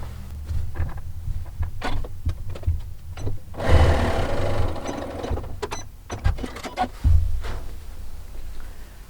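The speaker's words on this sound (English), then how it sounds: "So we'll go ahead and sew this together." A sewing machine stitches a seam in fabric for a hexagon table topper, with a loud, close mechanical whir in steady bursts punctuated by clicks and knocks between runs.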